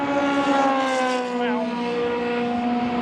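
A race car passing at the Silverstone Festival, a loud sustained engine whine with clear harmonic tones that bends in pitch as it goes by, heard steadily with no talk over it.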